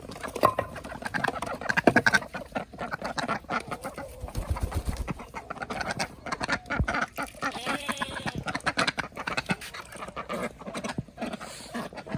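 Ducks quack repeatedly in a busy farmyard chorus, with other birds calling around them and no talking.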